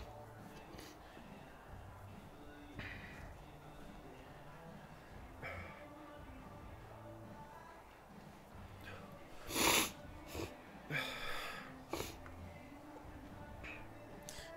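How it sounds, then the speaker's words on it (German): A single sharp sneeze bursts out about two-thirds of the way through, followed by a few sniffs and snorts over the low background hum of the Forza Horizon 4 racing game. "da musste ich mal kurz niesen"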